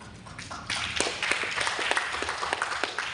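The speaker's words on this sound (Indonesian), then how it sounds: "Tepuk tangan dong." Audience applause during a spoken talk: a short burst of scattered hand claps starts after a moment of quiet and continues as a dense, moderately quiet patter.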